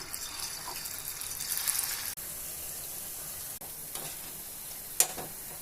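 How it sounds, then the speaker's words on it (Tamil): Oil crackles and sizzles steadily as mushrooms deep fry, a continuous bright hiss with a few sharper pops near the end. "இந்த காளானை டீப் ஃப்ரை பண்ணி எடுத்து வச்சிடலாம்"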